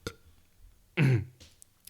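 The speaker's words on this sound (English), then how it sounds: "Excuse me, I have to burp." A single short, low burp sounds up close, briefly interrupting an otherwise quiet spoken discussion.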